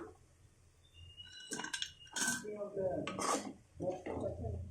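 Fried paneer being mixed into a tomato masala in a pan for paneer rice, with clattering spoon-on-pan scrapes and clinks in uneven bursts, close and moderately loud.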